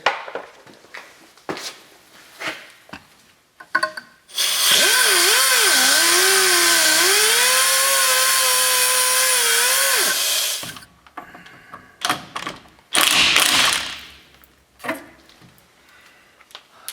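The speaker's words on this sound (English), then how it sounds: "the sway bar end link, which I feel is just easier just to cut than try to take off" Power tool cutting through a sway bar end link on an old Chevy S10 pickup, a loud, sustained whining grind of about six seconds whose pitch dips under load, followed by a few clanks and a second short burst.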